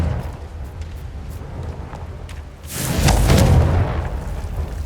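A Confringo blasting spell explosion in the video game Hogwarts Legacy, a loud booming burst that rises over background game ambience and rumbles for about two seconds, with no talk.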